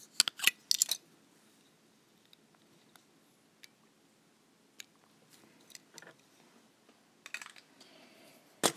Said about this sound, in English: I'm going to go ahead and trim my thread.